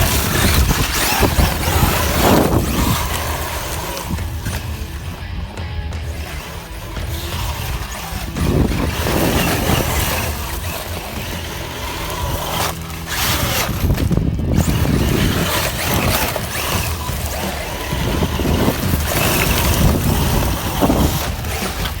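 A Traxxas UDR radio-controlled truck bashes around, its motor whining loudly and continuously with bursts of revving and rough churning as it drives.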